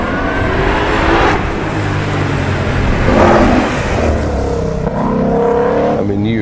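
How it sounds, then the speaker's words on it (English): A 2020 Ford Shelby GT500 with 760 horsepower, its engine droning loud and close with rising and falling revs and a deep, rumbling tone throughout. "There's a 2020 GT500 Shelby. This thing's crazy. 760 horsepower, 650 pounds of torque."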